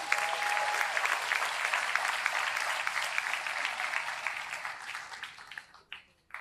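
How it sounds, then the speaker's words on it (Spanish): A church congregation breaks into sustained applause, dense clapping from many people that holds steady for several seconds before thinning out and fading near the end. "Así que dale un aplauso a Dios por eso."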